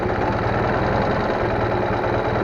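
A motorcycle engine idles in neutral with a steady, close, low throbbing rumble and a continuous mechanical chatter, and no talking is heard.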